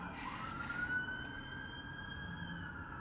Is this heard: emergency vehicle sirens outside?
yes